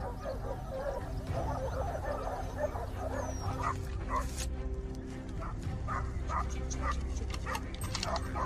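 A pack of hunting dogs barks and yelps at a cornered wild boar during a hunt, with rapid overlapping barks and whimpers that sound somewhat distant and muffled under steady background noise.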